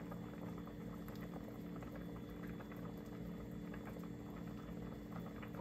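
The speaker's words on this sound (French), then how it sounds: "Pendant que la nourriture est en train de bouillir" Water mixed with spices boils in a pot on a home stove for an African dish, a steady close bubbling and simmering throughout with no voices.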